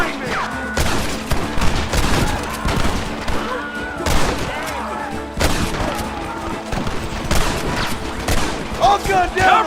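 Rapid video game gunfire crackles in dense bursts with heavy booms mixed in, loud and close, while shouted voices call out over the fighting.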